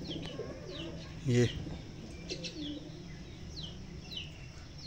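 Several pigeons coo intermittently outdoors among scattered millet grain, soft repeated calls mixed with chirps and a brief flutter, with a voice speaking briefly.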